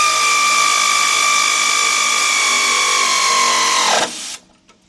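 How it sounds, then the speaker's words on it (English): Air ratchet driving an 18mm 3/8 drive socket on the radius control arm bushings of a 1995 Ford Econoline E-150 4.9: a loud, steady high-pitched whirring buzz runs for about four seconds, then cuts off abruptly with a brief rattle. "I'm going to be using my air ratchet this time with 18mm 3/8 drive socket"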